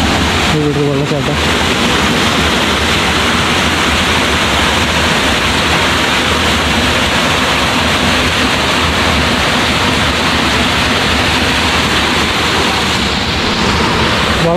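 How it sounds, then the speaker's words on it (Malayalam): A waterfall in a Nilgiri hill village near Gudalur, where drinking-water pipes run beside the stream, roars as a loud, steady rush of falling water filling the whole stretch without a break. "വെള്ളച്ചാട്ട"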